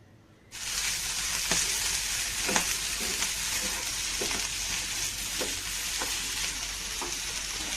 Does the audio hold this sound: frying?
yes